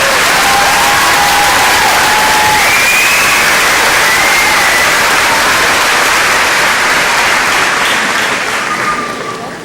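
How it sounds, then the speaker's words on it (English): A ceremony audience at a middle school class promotion applauds and cheers loudly and continuously, with whoops and shouts rising over dense clapping before it begins to fade near the end. "Please give them a round of applause."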